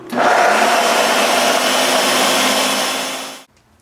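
A blender runs steadily at full speed, loud and close, while blending a chickpea meatball mixture, then cuts off abruptly just before the end.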